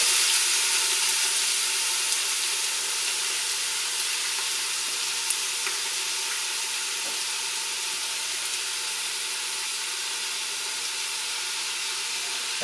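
Vegetables and onion sizzle in a generous layer of hot oil in a pan, a steady broad frying hiss that stays close and even throughout with a few faint pops and stirring ticks, no voices.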